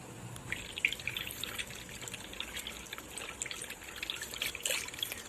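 Water trickles and splashes through a flow sensor in a flood detection setup, a faint, steady running stream with small irregular drips and splatters, heard alone without talking.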